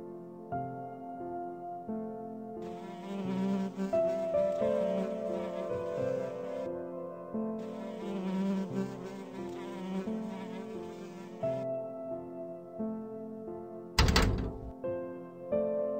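Insect buzzing from flies caught in the horror escape game The End Unwanted Experiment, a steady droning hum layered over a game music bed, with a sharp thunk near the end.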